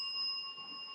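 A bell rings with steady sustained tones that hold for about a second, at moderate level with no voices.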